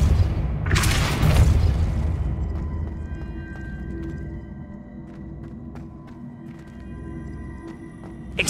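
Depulso spell cast in Hogwarts Legacy: a single loud, deep booming blast that rolls off into a low rumbling tail, followed by quieter background game ambience.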